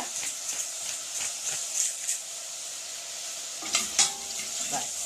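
Mushrooms seasoned with salt and ground pepper sauté in a pan, a steady bright sizzle broken by repeated scraping stirs, with a couple of louder clanks of the utensil near the end.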